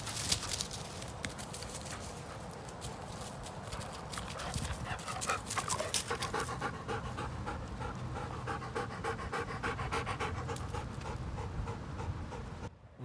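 Dogs pant rapidly and continuously close by during a stop at a Tesla Supercharger, the quick breathy rhythm running throughout with occasional soft footfalls and faint movement around them.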